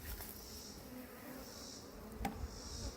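Honeybees hum in a continuous drone around an opened hive during a beekeeping check, the buzzing close and steady with faint outdoor noise and no voices.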